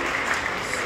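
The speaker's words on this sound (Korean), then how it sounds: "잘 들었다고 박수 한번 부탁드리겠습니다" An audience at an invited lecture in Daejeon gives a short burst of dense, even clapping that fills the room.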